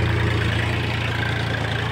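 A Massey Ferguson tractor engine pulls a cultivator through a wet field, a loud, close, steady low throb with a constant pulsing rhythm and no voices.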